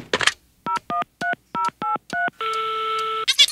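A telephone number is punched in: seven short, evenly spaced touch-tone beeps, then a longer steady tone, loud and clear with no talk.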